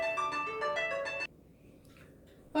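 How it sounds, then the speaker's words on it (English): A phone ringtone chimes loudly in a quick repeating electronic melody for just over a second, then cuts off abruptly, leaving quiet room tone in a home kitchen during pork schnitzel preparation, with faint movement noises afterward. "got interrupted by a phone call there"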